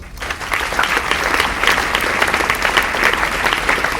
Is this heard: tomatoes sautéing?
no